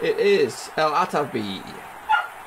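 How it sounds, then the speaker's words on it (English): A dog barks and yips several times in quick bursts close by, mixed with a voice speaking over it. "If you hear any barking in the background"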